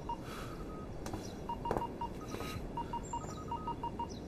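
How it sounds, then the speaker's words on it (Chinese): Telephone dialing tones sound in a period drama: a quick sequence of short, evenly pitched keypad beeps in irregular groups, fairly faint and clear, with no voices over them. "让启昭马上接电话。"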